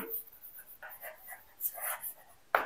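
Writing on a board during an English grammar lesson, with several brief scratchy strokes and a sharper tap at the end, fairly quiet and close.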